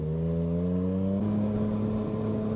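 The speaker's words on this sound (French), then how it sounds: "je me mets en quatrième et je touche à peine avec l'accélérateur" A Yamaha motorcycle engine in fourth gear at low revs gives a steady, loud harmonic drone; the pitch drops slightly partway through, then holds even. No talking.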